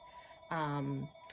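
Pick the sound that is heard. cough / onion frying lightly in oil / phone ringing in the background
phone ringing in the background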